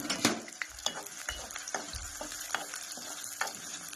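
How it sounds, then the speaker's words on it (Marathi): Onions dropped into hot mustard oil in a home kitchen, giving a steady crackling sizzle with a few stirring scrapes and clinks of a spoon against the pan, fairly quiet and close, no talking. "राईचं तेल गरम झालेलं आहे आता टाकते मी कांदा"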